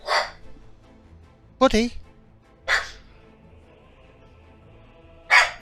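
A dog barks in short loud bursts, four of them spaced over a few seconds, with someone shouting at it between barks indoors while game sounds play quietly underneath.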